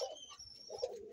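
Pigeons cooing inside a loft, a soft, low, throaty coo rising twice in quick succession, fairly close and quiet, with no voices.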